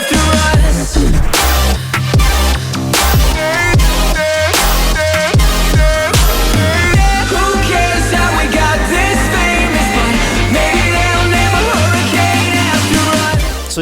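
A remix of a song plays as a full electronic dance track. Chopped, punchy stabs with brief gaps give way to a denser, sustained section over a steady heavy low end.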